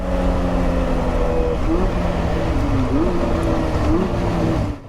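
A Caterham sports car laps the wet Bilster Berg circuit, its engine droning steadily and close throughout, pitch dipping and rising through gear changes and bends with tyre and spray noise beneath.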